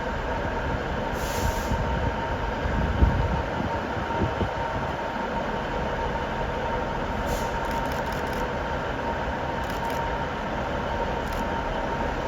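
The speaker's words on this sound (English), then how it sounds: "397 for Transpennine Express. This is coming through to Liverpool Lime Street." A Class 397 TransPennine Express train runs into a curved platform at Carlisle station, a steady rolling rumble with light wheel squeal up high and a brief clunk partway, close by and continuous, no speech.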